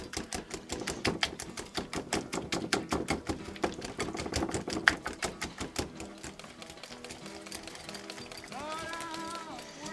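Batter for a New Orleans king cake being whisked by hand in a bowl, a rapid, even rattling of wire against the bowl that slows and softens near the end, with faint talk.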